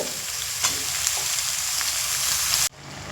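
Spinach stalks and tomato cook in a pan on a low flame, a steady close sizzle with faint crackles that cuts off abruptly near the end, leaving a quieter hiss.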